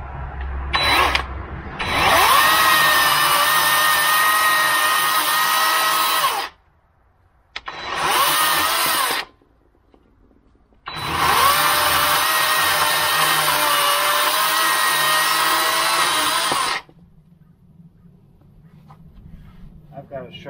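A chainsaw with a dull chain cuts oak and maple firewood, its loud buzzing whine running in long bursts with brief pauses between cuts, then dropping to a low idle near the end.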